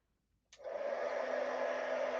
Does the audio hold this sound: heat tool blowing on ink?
yes